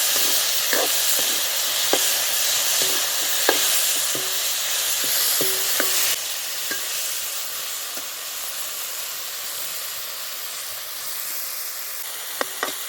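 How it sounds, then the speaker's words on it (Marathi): Washed tomatoes fry with a steady sizzle and hiss in a pan for tomato bhaji, while a spoon stirs them in light scraping taps. The sizzle drops noticeably about halfway through, and no one speaks. "धुवून तंबाटे आपण हे टाकून घेतले तर हे असं हलवून घ्यायचं"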